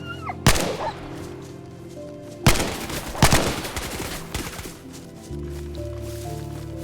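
Gunshots in the video game DayZ, a few loud sharp cracks spaced seconds apart followed by a quick cluster of rapid shots, over low in-game background hum.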